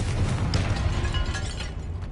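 A Confringo fire spell blasting in Hogwarts Legacy: a short, loud burst of crackling, rumbling explosion with a heavy low-end boom fading over a couple of seconds.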